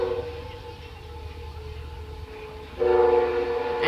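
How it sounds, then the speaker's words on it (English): Train passing at dusk, a steady distant rumble with tonal horn-like hum that grows louder toward the end. "A train."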